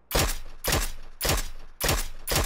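Gunfire in the battle royale game PUBG on the Sanhok map: four loud, sharp bursts of automatic fire, each a dense rattle of rapid shots, spaced about half a second apart with brief gaps between.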